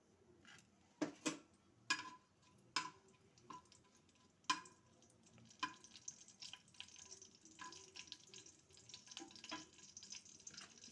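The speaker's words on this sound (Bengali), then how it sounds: "আমি শুকনো লঙ্কাটা ফোড়ন দিয়ে দেব।" Dry red chillies temper in hot mustard oil with a quiet crackle and sharp popping spatters, a few separate bursts at first and then busier, denser sputtering.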